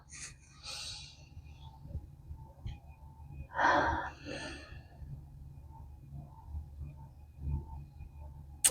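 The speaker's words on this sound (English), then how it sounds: "I want you to take a deep breath with me." A person takes a slow deep breath during a guided calming exercise, with a quiet inhale and a fuller, louder exhale over a faint low hum, with no speech.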